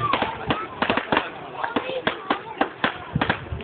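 Fireworks display at Kendal Castle, a run of sharp bangs and crackling bursts going off in irregular succession, with people talking nearby over the explosions.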